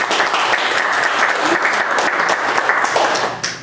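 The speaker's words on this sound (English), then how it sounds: "please give a round of applause for our guest speaker for today" Audience applause at a Brooklyn Tea Party gathering as a state senator is welcomed as guest speaker, steady dense clapping from a crowd filling the room, continuous and fairly loud before tapering off at the end.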